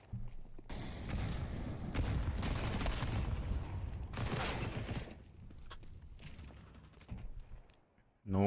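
Bursts of pistol fire during an esports match round of a first-person shooter, sustained clattering shots over several seconds that fade toward the end, with a caster talking over them.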